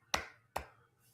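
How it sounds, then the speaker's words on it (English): Two sharp, quiet hand claps, spaced about half a second apart, each one short and crisp with a brief trailing ring. "I'll applaud."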